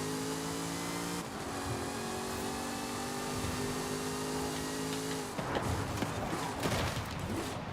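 A car engine in Forza Horizon 5 droning at steady high revs, then breaking into a rougher, crackling burst of acceleration near the end, loud and with no talk over it.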